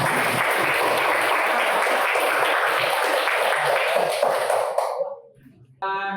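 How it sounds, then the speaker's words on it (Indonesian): Classroom applause for first, second and third place winners at a school lesson, steady clapping that fades out near the end, followed by a brief burst of another sound. "Ya, kasih tepuk tangan buat semuanya."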